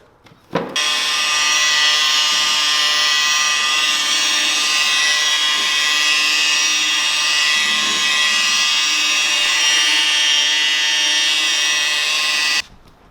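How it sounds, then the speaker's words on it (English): Dewalt DCM849B 20V MAX XR 7-inch cordless rotary polisher whirring continuously on automotive paint for about twelve seconds, a steady high-pitched motor whine with slight load changes, close and loud, stopping abruptly. "Just wanted to give you a real quick example on the new Dewalt Cordless Rotary Polisher."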